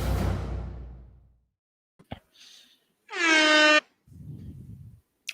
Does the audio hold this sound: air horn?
yes